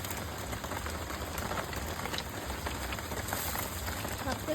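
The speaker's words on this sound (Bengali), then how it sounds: "এখন নর্মাল বৃষ্টি হচ্ছে।" Steady rain falls on a pond of lotus plants and their leaves, a soft continuous patter of drops, fairly faint and even, with scattered sharper taps throughout.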